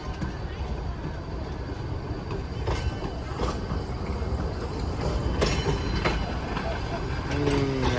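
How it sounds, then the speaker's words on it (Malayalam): A train runs past on the opposite track, its steady rumble and clattering wheels filling the whole stretch while people talk close by over the noise. "അടുത്ത ട്രെയിൻ ഇതാ പോവാണ്"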